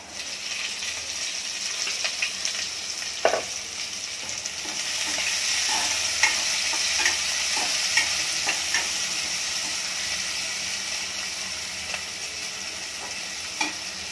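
Chopped onion frying in oil with garlic in a pan, a steady bright sizzle throughout, punctuated by occasional clinks and scrapes of a spoon stirring, with no one speaking.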